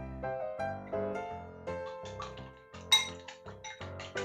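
Chopsticks whisk salted eggs in a bowl, making a close series of bright clinks and taps against the rim at an uneven quick pace, with no talking over them.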